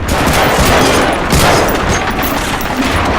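Dense, continuous gunfire from the Medal of Honor Frontline video game, a loud sustained fusillade of overlapping rifle and machine-gun shots with booming impacts, no talk.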